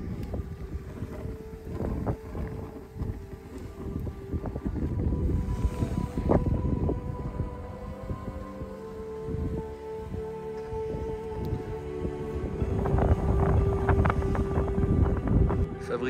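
Strong wind gusting across a campsite with tents pegged down, a steady roar of buffeting microphone noise throughout that swells louder near the end, with faint voices now and then underneath.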